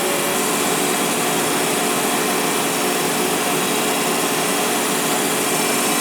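A grinding machine regrinds a Ford Model A camshaft to race specification, giving a loud, continuous, even whir and hiss of abrasive on steel that holds steady throughout.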